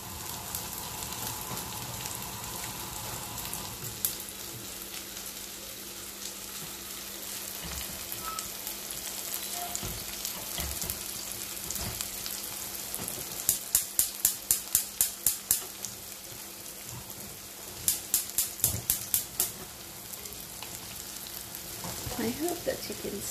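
Chicken with whole spices sizzles and spatters in a pot over a high flame, a quiet, continuous frying hiss broken by a few sharp clicks and clatters partway through.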